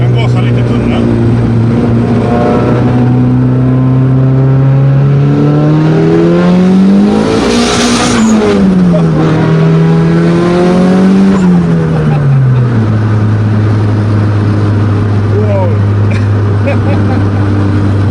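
A 400-horsepower Honda Civic engine drones loudly, then revs up sharply mid-way, its pitch climbing and dipping through gear changes before settling back to a steady hum.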